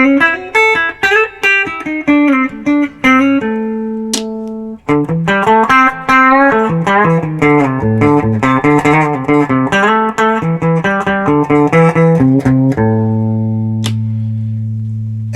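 Electric guitar, a Höfner Verythin, played with a distorted tone, a run of quick picked notes and chords ending on sustained ringing notes, loud and up front.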